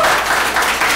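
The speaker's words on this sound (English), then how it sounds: "Can we give a round of applause for Jesus?" A church congregation bursts into loud, dense applause, a continuous wash of many hands clapping close by.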